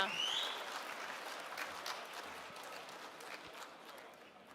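A crowd gives faint, distant applause for the race winner at the Finke Desert Race presentation, a steady wash that slowly fades, with some talk underneath.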